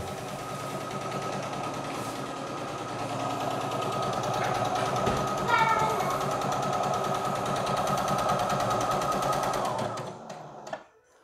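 A sewing machine stitches a buttonhole with a rapid, steady mechanical clatter that continues for about ten seconds, then stops and fades to silence.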